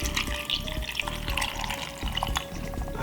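Water poured into a glass for a broccoli drink, a continuous close splashing trickle lasting a few seconds with no talk.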